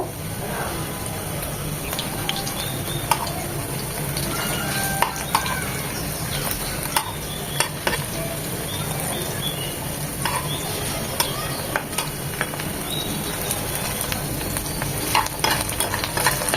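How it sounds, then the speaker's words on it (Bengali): Chicken pieces frying over medium-high heat in a pan for fried rice, a dense, continuous sizzle close by with occasional clicks and scrapes of a spatula. "এভাবে এক মিনিট পুরো চিকেনগুলো ভেজে নেবো"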